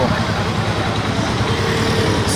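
A Skygo Earl 150 motorcycle in Tuburan, brand new, running with a steady low engine drone and road noise throughout, close and fairly loud.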